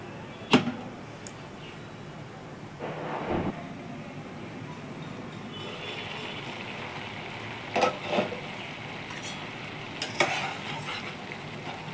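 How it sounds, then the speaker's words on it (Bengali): Mushroom masala vegetables simmering in a pot, a quiet bubbling bed broken by a few sharp scrapes and knocks of a spoon stirring now and then. "সবজিটা বয়েল হচ্ছে, একটু মাঝে মাঝে নাড়াচাড়া করে নিচ্ছি।"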